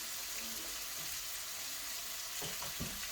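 Steaks frying on a grill on an outdoor deck at a farm, a soft steady hiss and crackle that runs the whole time at low level, with a few louder spits near the end.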